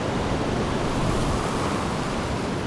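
Sandstorm wind in Jurassic World Evolution 2, a dense, steady roar of blowing sand and gusting air, constant and broadband with no talk over it.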